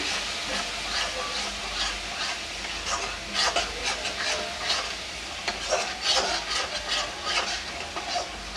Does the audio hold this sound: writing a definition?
no